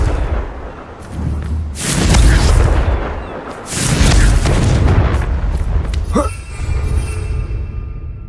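Confringo blast curse in Hogwarts Legacy, several loud booming explosions in quick succession with rumbling tails, the last followed by a sharp crackling burst.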